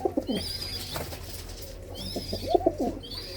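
Pigeons of a prized breed coo in soft, throaty bursts, one near the start and another near the end, close by over a low background hum; no talking.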